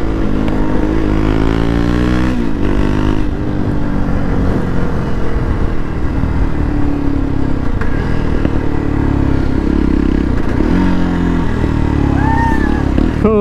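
Motorcycles ride along a road during an Independence Day group ride, their engines droning loud and close with shifting revs and passing bursts, wind rumble and clatter mixed in throughout.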